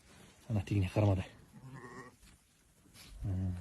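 Sheep bleat close by on a mountain summer pasture, several short wavering calls in quick succession, with a person speaking between and over them.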